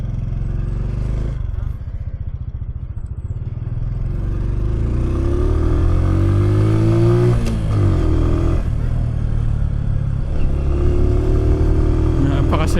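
A Bristol Cub motorcycle engine idles with a rough, close rumble, then revs and pulls away with rising and falling pitch, with people talking over it.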